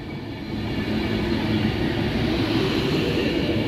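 A nine-coach Class 390 Pendolino passenger train at Carlisle, running London Euston to Edinburgh, rumbles past with a low, steady roar and humming tones that swell in after a quieter start and then hold.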